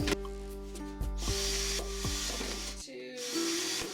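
A handheld drill bores six or seven drain holes through the bottom of a plastic container, giving a steady whirring hum with harmonic tones and short bursts as each hole goes through.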